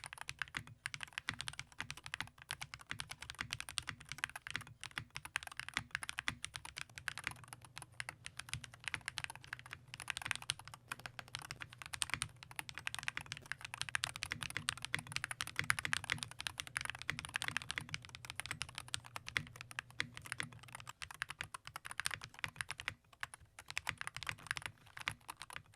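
Typing on a TKD Cycle 8 custom mechanical keyboard fitted with foam and weights, a steady dense stream of close keystroke clacks running throughout with no voices.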